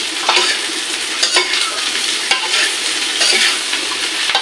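Food frying in ghee in a pan, with repeated stirring scrapes over a steady close sizzle and no voices.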